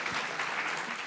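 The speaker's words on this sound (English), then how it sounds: "give him a round of applause" An audience at a business pitch competition claps in a brief, steady burst heard from within the room.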